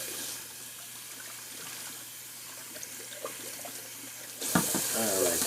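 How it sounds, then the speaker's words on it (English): Water runs from a tap into a sink to rinse a shaving brush, a steady hiss and splash that grows louder toward the end, with faint background sounds. "Just rinsing out my brush here real quick"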